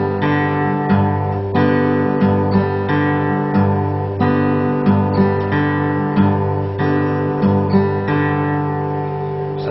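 An acoustic guitar plays a folk fingerstyle pattern, the thumb moving onto the 6th string for the bass while fingers pluck the upper strings in a steady repeating rhythm, clear and alone with no voices.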